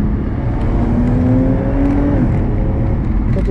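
An Audi S5 with a supercharged V6 accelerates with its exhaust valve shut. It gives a loud, muffled, continuous engine drone with a rising whine, heard close and without speech.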